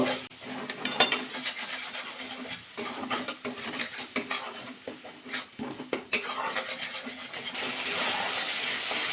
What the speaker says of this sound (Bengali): তার মশলা ভালো করে কষিয়ে নেবো